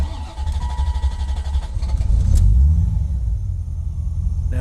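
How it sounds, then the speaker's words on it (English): A 1989 Corvette engine catches and settles into a loud, continuous low rumble after a no-crank, no-start fault, close by with no talking. "Now it started because I have the clutch bypassed"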